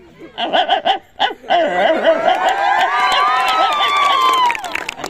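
A human voice imitates a small dog, with a few sharp yapping barks followed by a long whining, howling yelp, loud and close.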